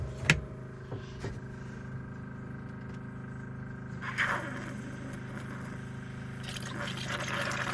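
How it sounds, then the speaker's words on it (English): Water runs steadily from a shower head in a boat's bathroom aboard a Marine Trader during winterizing, a faint continuous hiss with a low hum beneath and a few brief knocks and clatters. "the shower head does have some water coming out of that, so we'll just let that run too"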